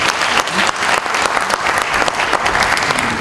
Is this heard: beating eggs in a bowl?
no